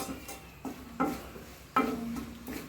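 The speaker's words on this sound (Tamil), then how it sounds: "கொஞ்சம் நல்லா வதக்கணும்" A spatula stirs chilies and spices in a hot pan for pickle, with a few separate scraping strokes over a soft sizzle.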